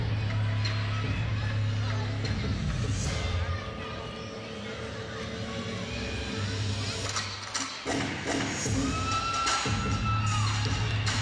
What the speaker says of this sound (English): Teammates cheering her on in the corner.